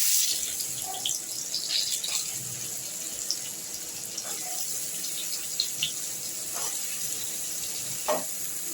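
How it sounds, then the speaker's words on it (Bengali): Pieces of pointed gourd (potol) fry in hot oil, giving a steady soft sizzle with scattered small pops and crackles throughout, with no talking. "এবার যে তেলটা আছে আমি ওই তেলেতেই এই পটলগুলোকে অল্প অল্প করে ভেজে নেব।"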